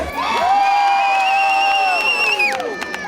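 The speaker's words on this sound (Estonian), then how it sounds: "Palju õnne Kertule ja talle üks kõva aplaus" A crowd cheers for contest winner Kertu Roose at a bikini and beach fitness competition during the Grillfest 2018 food festival, with one long, loud sustained whoop rising over the noise for about two seconds.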